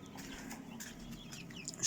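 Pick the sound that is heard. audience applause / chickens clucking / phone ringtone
chickens clucking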